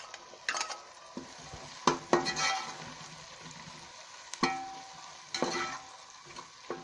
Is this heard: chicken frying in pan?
yes